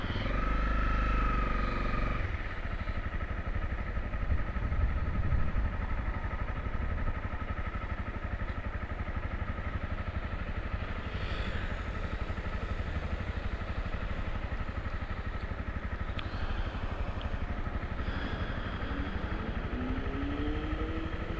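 A motorcycle or car engine revs on a busy Tokyo street, a steady mid-pitched drone with some clatter that runs the whole time alongside passing traffic and foot traffic.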